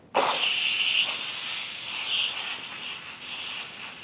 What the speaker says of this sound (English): So now hit cancel, and I'm going to let out all of the remaining steam.